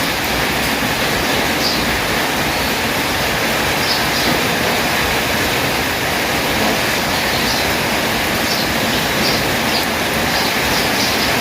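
Heavy rain on a rainy day, a dense, steady hiss that stays loud and unbroken throughout, with a few faint bird chirps far behind and no talking.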